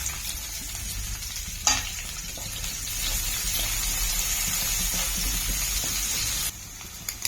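Chopped onions and cumin seeds sizzle in hot oil in a pan, a steady loud frying hiss with a brief clatter as they go in and a short stir near the end.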